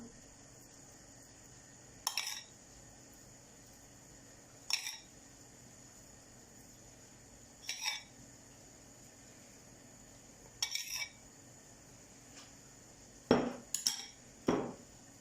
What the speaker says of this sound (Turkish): Şöyle kaşık kaşık kadayıfımın üzerinde gezdiriyorum.